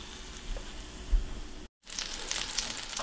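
Steady sizzling and crackling of oyster toadfish frying in butter in a pan, with a brief silent gap before the sizzle resumes.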